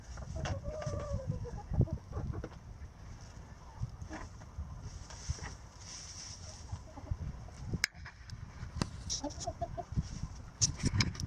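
Hens clucking softly in short, scattered calls over a low outdoor rumble, with a few sharper bird notes breaking through near the end; a small flock of two hens and a rooster.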